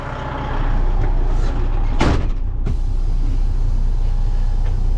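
A 13-speed transmission truck drives along, its steady low engine drone and road rumble loud and close throughout, with a brief louder burst of noise near the middle.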